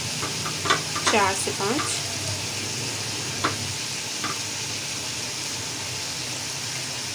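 Chopped green chillies hitting a pan where peas and garlic-ginger paste are already frying for matar pulao, giving a constant sizzling hiss. A short spoken phrase sits over the opening seconds.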